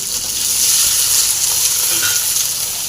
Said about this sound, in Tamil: எண்ணெய் சூடாயிடுச்சு பூண்டு போட்டுடலாம் இது பச்சை மிளகாய் போட்டுடலாம்